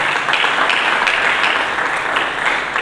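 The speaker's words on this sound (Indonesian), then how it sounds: "Mari kita berikan tepuk tangan bagi Yesus." Church congregation at a Sunday service clapping together, a loud sustained burst of dense applause with some individual claps standing out.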